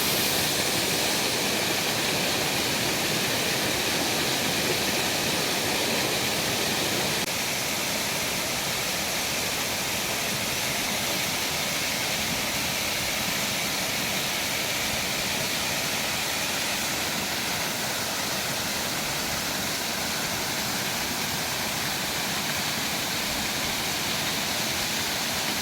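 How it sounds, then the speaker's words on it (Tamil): A waterfall in the Kolli Hills roars continuously, a dense, steady rush of falling water with no breaks and no voices. "கொஞ்ச நேரம் அருவியோட சத்தத்தை கேட்டு ரசிங்க."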